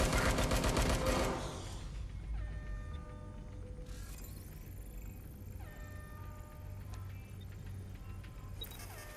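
Rapid bursts of gunfire in Watch Dogs Legion crackle over a steady mechanical drone and background score, with no voices.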